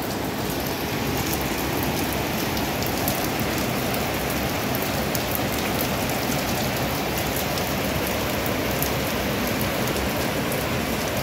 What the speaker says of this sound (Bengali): দেখো বন্ধুরা কত বৃষ্টি হচ্ছে, দেখেছো?